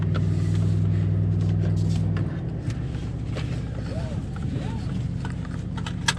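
Mercedes-AMG GLC63 S from 2018 idling with its exhaust flaps opened to bypass the muffler, giving a steady low engine drone that drops a little partway through, with faint background noise and no talk.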